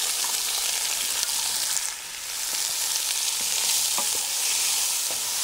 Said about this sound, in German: werden anfangen, dass wir uns unsere Karotten und unser Gemüse hier ein bisschen mit anbraten werden